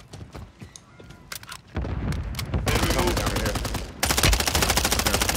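Gunfire in Call of Duty Resurgence, scattered shots at first building into dense, loud automatic bursts that grow more intense toward the end.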